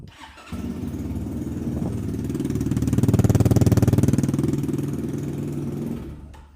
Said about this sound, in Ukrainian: Ось, дивіться і як повинен заводитися холодний мотоцикл.